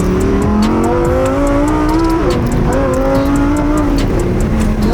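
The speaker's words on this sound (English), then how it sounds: "Stock exhaust, huh? Sounds pretty nice." A twin-turbo Lamborghini Huracan STO engine with stock exhaust roars loudly and steadily, its pitch rising and falling as it revs through gears, with no talking.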